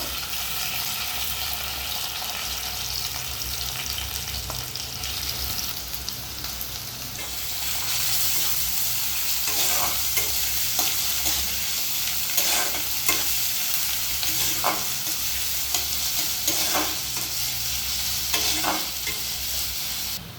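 Onions and a bay leaf frying in a few spoons of hot oil for dhaba-style aloo dum, a loud continuous sizzle with repeated scraping strokes of a spatula stirring the pan.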